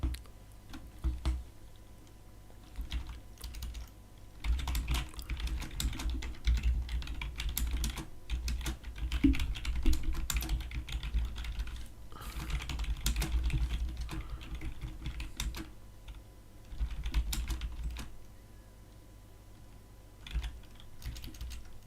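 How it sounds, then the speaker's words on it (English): Steady typing on a computer keyboard, a continuous patter of key clicks in uneven bursts that runs through the whole stretch at close range, with no talking over it. "I don't know what I'm typing here."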